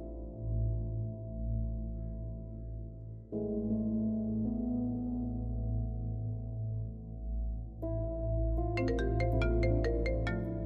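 A phone ringtone plays as a continuous electronic melody of sustained tones, fairly loud and alone, with bright chiming notes near the end.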